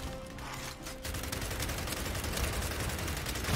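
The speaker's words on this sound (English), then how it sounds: "let me just shoot the rocket with explosive" Gears 5 video game combat, dense rapid gunfire with explosive blasts rattling continuously and loudly after a brief quieter opening, no talk.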